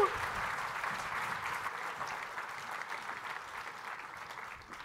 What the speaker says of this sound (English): Can we get a big round of applause for our contestants?